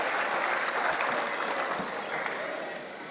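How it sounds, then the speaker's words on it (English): Guests at an Eid ul-Fitr gathering applaud in a thick, even wash of clapping that holds steady and tapers off gently at the close. "Big round of applause, guys."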